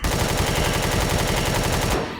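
Rapid automatic gunfire in the video game Empyrion, a dense, continuous burst of loud shots lasting about two seconds before cutting off abruptly, with no voice over it.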